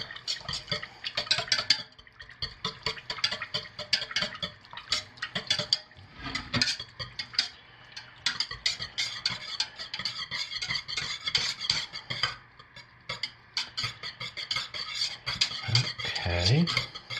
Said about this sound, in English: So let's go ahead and hand stir this in.